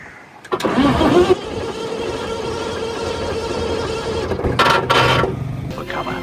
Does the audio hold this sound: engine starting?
yes